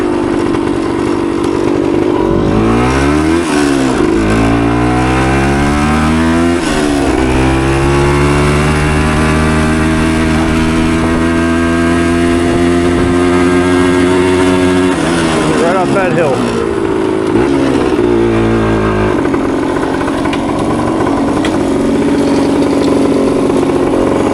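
A 1976 Kawasaki KE100 motorcycle engine runs loud and close, its small single-cylinder buzz rising and falling through revs, with a rider's voice faintly mixed in.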